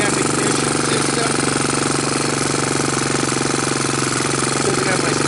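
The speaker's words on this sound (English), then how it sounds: "Yeah, this is running on the OEM ignition system." A Honda TRX200SX ATV engine runs on its OEM ignition with a steady, unbroken, loud mechanical chatter throughout, close by, with no pauses or revving.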